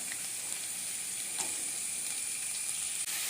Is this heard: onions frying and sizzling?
yes